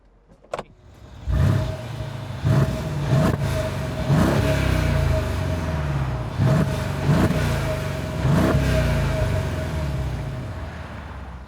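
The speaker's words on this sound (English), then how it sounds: "we'll also give you a listen to the bi-turbo V8" Bi-turbo V8 of a Mercedes R231 SL hardtop roadster revving repeatedly, about six sharp throttle blips rising over a steady idle, loud and close with no talking.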